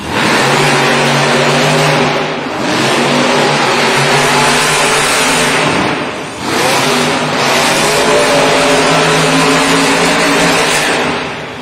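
Monster trucks at a Monster Jam event in Newark, New Jersey, rev their engines at the race start, a loud, continuous roaring drone with rising surges and brief dips, filling the arena.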